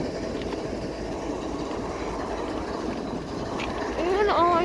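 A continuous low rumble of a train rolling past, steady and loud, with a voice beginning near the end, beside BNSF locomotive 4250.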